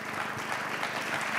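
An audience applauds the organizers at an evening event, Goal a Grappoli 2015. The clapping is steady and dense, sustained at an even level for the whole moment with no voices over it.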